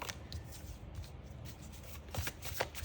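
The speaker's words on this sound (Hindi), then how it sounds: "मैं इतने सारे कार्ड्स नहीं लूँगी, आई विल शफल अगैन" A deck of cards being shuffled by hand: quiet, close, soft papery riffles and flicks in uneven bursts, growing a little busier toward the end, with no voice.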